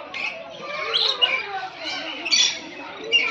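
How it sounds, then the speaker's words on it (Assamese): Red and blue lories squawk at the Assam State Zoo, giving harsh, repeated calls close by while people talk throughout. "ৰেড এণ্ড ব্লু লৰি।"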